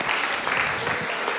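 A television game-show studio audience applauds, with dense, even clapping that fills the whole short stretch at close range.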